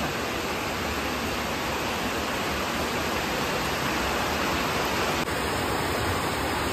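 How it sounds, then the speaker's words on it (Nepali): Water flows steadily through a drainage channel, a constant dense rushing hiss with no voices and no change in level throughout. "नालीबाट चाहिँ यहाँनिर पानी लगाइरहेको छ"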